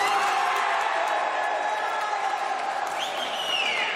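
A crowd cheers and applauds steadily at a goalball match in Itapetininga, the roar loud and sustained throughout, with whistling whoops rising near the end.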